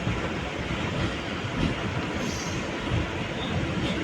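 A MEMU passenger train on the Karur to Tiruchirappalli line rolls into a station, a continuous loud rumble of wheels and carriages with faint squeal, heard close and without talk.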